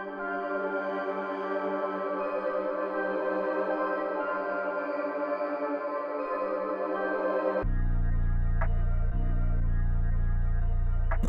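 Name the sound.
finished beat with melody and arpeggiator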